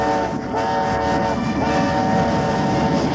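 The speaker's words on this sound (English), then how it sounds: "Puffa gained speed, shrilly whistling to clear all the signals." In the TUGS animated series, a steam engine gives a shrill, sustained whistle over steady rumbling train noise as it gathers speed. The whistle is loud and continuous, with no talking.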